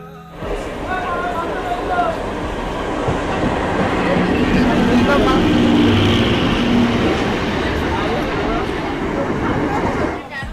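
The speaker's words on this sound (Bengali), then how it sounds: "সেখান থেকে ট্রেন ধরে যাব কিন্তু ব্যারাকপুর" A local passenger train heading toward Barrackpore in West Bengal rumbles along with a continuous clickety-clack of wheels on rails, loud and close from inside the carriage, while people talk over the noise.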